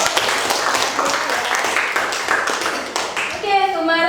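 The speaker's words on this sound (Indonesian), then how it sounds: "tepuk tangan dulu" A classroom of students claps together, a dense burst of hand claps lasting several seconds, close and loud, with a voice speaking as it ends.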